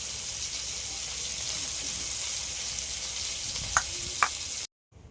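Banana flower fritters frying in hot white oil give a steady, close sizzle with a couple of brief utensil taps near the end before it cuts off abruptly.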